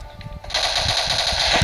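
Rapid sniper and automatic gunfire from a shooter video game, a dense sustained burst of shots that starts abruptly partway through and stays loud and continuous to the end.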